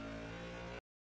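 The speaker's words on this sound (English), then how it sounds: "You can hear the engine drop." A brief burst of a Ford Mustang GT3 race car engine in a Daytona 24 Hour racing video game, its revs dropping before cutting off abruptly, with no talking.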